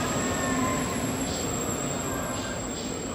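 Intercity passenger train at a Hungarian railway station, the Latorca service bound for Ukraine, giving a steady, close rolling rumble with a faint high wheel squeal throughout and no talk.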